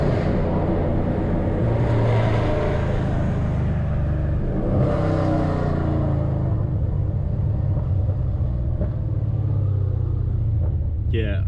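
Dodge Challenger ScatPack engine, six years old, rumbling and revving on the road: a deep, steady, loud drone that swells twice as the throttle opens and then eases off, with no voices.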